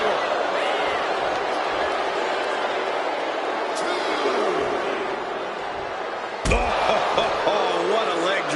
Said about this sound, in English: Oh, what a leg drop.